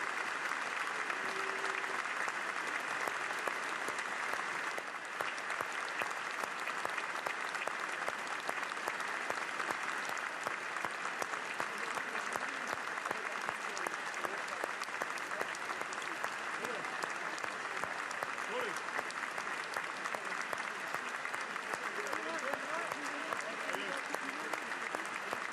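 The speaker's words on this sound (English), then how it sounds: "There's a minute's applause before all of the 7 matches this weekend." A stadium crowd gives a minute of sustained applause before a French Top 14 rugby match between Pau and Stade Français, a dense, even roar of clapping that holds steady throughout.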